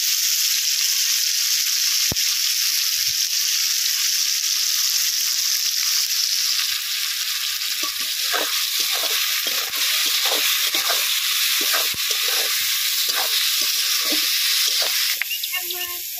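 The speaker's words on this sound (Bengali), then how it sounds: "পেঁয়াজ টমেটো ভাজা হচ্ছে" A steady, loud sizzle of onions and tomatoes frying with salt and turmeric, joined partway through by rhythmic scraping strokes of a spoon stirring the pan.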